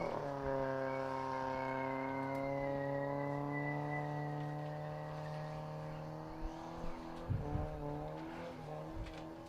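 A 1982 Toyota Corona station wagon does a burnout at a motorsport event. Its engine holds a loud, steady high rev that eases off near the end, followed by a few sharp bangs and pops.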